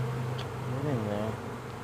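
A short burst of honeybee buzzing close by at a Layens hive during the addition of a second colony, a rising and falling whine from a single nearby insect over a steady hum.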